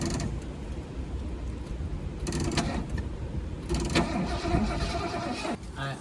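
The starter of a 1977 Mercury Grand Marquis, long parked and forgotten, cranks over in two bursts of churning mechanical whirring, loud and close, with a voice speaking briefly between attempts.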